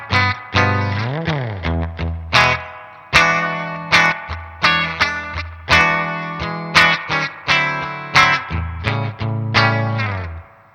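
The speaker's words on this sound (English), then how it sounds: "So it goes from absolutely dry to this much reverb." Electric guitar through a Danelectro Spring King Junior spring reverb pedal, loud strummed chords and single notes ringing with a thick, splashy spring wash and long decaying tails, played alone with no talking.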